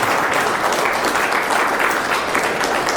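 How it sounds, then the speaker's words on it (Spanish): Dense, steady applause from a church congregation at a Spanish-language service fills the whole stretch, loud and close with no pauses. "Le damos un aplauso a nuestro Señor y Salvador."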